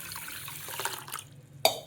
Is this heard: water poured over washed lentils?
yes